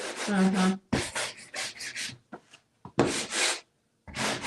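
Wet sanding sponge rubbed across painted furniture, giving several bursts of close, scratchy friction with short pauses between strokes.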